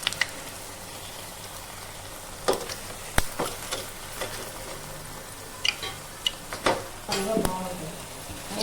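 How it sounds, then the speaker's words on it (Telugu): Bottle gourd vadas deep frying in hot oil until golden, a steady low sizzle with scattered sharper pops and crackles, moderately near and without speech. "ఇలా గోల్డ్ కలర్ వచ్చే వరకు డ్రీప్ ఫ్రై చేసుకుంటే"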